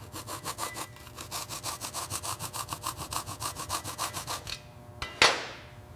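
Corroded electrical connector pins on a 1960s Mini Cooper S being scrubbed clean, a fast steady run of rhythmic scraping strokes close by, ending with a pause and a sharp click.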